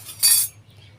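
A single short metallic clatter of cooking pots, a wok and a spatula being handled in a home kitchen, close and sharp, then fading into quiet.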